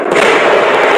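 Consumer fireworks set off to celebrate, giving a dense, continuous stretch of crackling bursts that stays loud throughout, with no talking.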